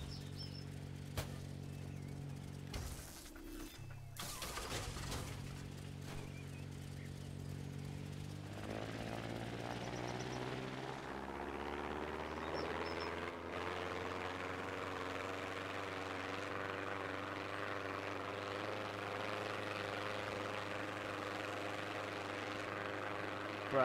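A propeller plane in a video game, its engine droning steadily with a rising, sustained hum after a brief choppy start, loud and continuous throughout.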